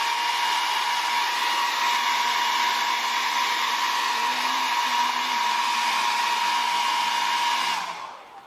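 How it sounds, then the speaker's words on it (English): A hair dryer blows steadily and loudly for nearly eight seconds, a constant close-up whoosh with a faint shifting hum, used on hair styled with washi tape, then cuts off abruptly at the end. "I'm just going to shoot this with my hairdryer really quick."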